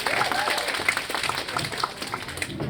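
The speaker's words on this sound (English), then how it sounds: "And a round of applause for Naz." Applause from a conference panel audience fills the whole stretch, steady clapping from a crowd indoors with some voices mixed in.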